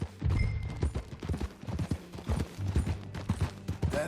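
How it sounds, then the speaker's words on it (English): Horse hooves clip-clopping in Red Dead Redemption 2, a steady rhythmic trot of crisp, close hoof strikes, moderately loud and continuous for several seconds with no talk over it. "That a new horse?"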